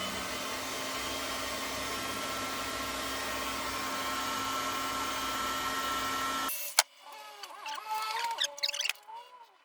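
A heat gun blows a steady, even hiss while shrinking heat shrink tubing on seat heater wiring in a restomod car, running alone for several seconds, then cutting off into faint handling clatter.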